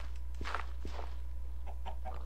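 A Minecraft chicken gives a few short clucks in quick succession over a steady low game hum, with no talking.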